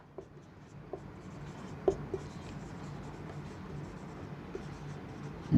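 Marker or chalk writing on a board during a physics lesson, a soft continuous scratchy stroking with a few sharper taps, fairly quiet and steady throughout, with no speech over it.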